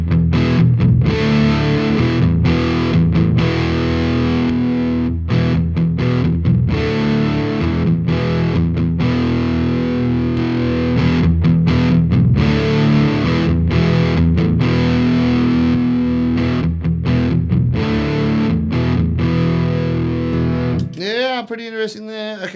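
Heavily distorted electric guitar run through an EarthQuaker Special Cranker overdrive pedal into a Marshall Astoria amp, gain fully up, playing loud sustained chords and riffs nonstop for about twenty seconds before a brief pitch-swooping tail at the end.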